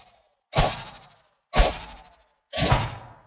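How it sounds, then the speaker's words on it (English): Three separate whooshing bursts with a sharp attack, each about a second apart and quickly fading, like synthetic game dash effects, loud and close. "because that's a dash, and it had to sound like whoosh"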